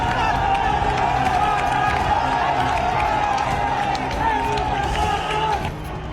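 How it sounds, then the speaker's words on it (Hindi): A dense crowd of protesters surrounding a tank in Bangladesh, roaring and shouting slogans together in a loud, sustained wash of voices that eases slightly toward the end. "लोगों की भीड़ ने टैंक को घेर लिया और जमकर नारे लगाए।"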